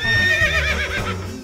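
A loud, close horse whinny, rising and wavering before trailing off, heard alone.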